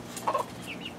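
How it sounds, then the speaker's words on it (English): A barred rock hen gives a few soft, close clucks in a short burst around her chicks, followed by a faint higher chirp, with no one speaking. "the barred rock hen has been very chill with the babies"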